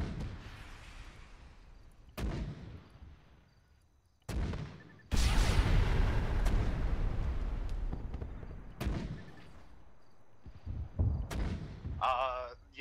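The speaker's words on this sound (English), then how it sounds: "I'll drop some more mortar shells on them." Mortar shells from a Siege Army Ops video game round slam down in a string of heavy, booming blasts, each with a long rumbling decay. The impacts overlap and grow louder and denser in the middle of the stretch, and faint electronic chirps come near the end.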